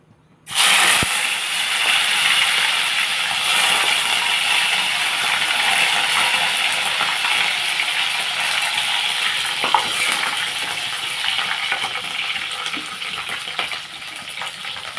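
Dried prawns frying in a pan on the stove give a continuous loud hissing sizzle that starts abruptly and keeps going with occasional faint stirring clicks.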